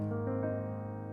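A soft, sustained piano passage with gentle, overlapping notes ringing out, quiet and smooth with no voices.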